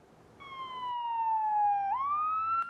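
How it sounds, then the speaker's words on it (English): An ambulance siren in Colorado Springs wails steadily, its pitch sliding slowly down and then sweeping back up, over a low background hum of traffic. "When these sirens are coming for you, every second of every minute counts"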